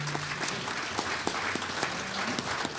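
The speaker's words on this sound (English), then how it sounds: "How about a big round of applause for this incredible group?" Steady applause from the audience at the 53rd annual NTPA pulling awards banquet, a continuous wash of many hands clapping at a moderate distance with a few sharper individual claps.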